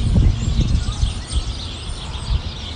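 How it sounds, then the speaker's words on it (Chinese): A tree in a park full of birds gives off a dense, steady chatter of chirps and song, heard somewhat distantly beneath a heavy low rumble. "树上的鸟，你们为什么这么热闹啊？"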